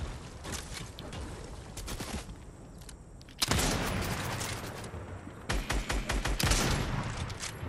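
Assault rifle gunfire in a video game duos match, with sustained bursts of automatic fire, a short lull, then louder, closer volleys resuming in rapid rhythmic strings.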